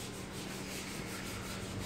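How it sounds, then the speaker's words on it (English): Bondo body filler is sanded off a Nissan S14 car body during primer prep, a steady close abrasive rubbing that runs without a break. "he's got a bunch of Bondo on there, and kind of just sanding it off"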